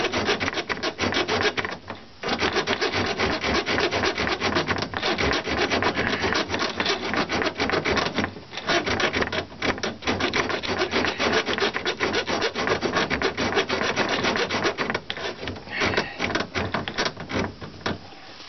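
A bare hacksaw blade held in the hand rasps back and forth in steady rapid strokes while prepping to lay tile in an RV, loud and close, with a couple of short pauses and no speech.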